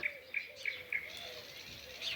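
Morning birdsong outdoors with a nightingale singing: a repeated series of clear whistled notes at a steady rhythm, close and fairly loud, over a soft background of other faint bird calls; no voices.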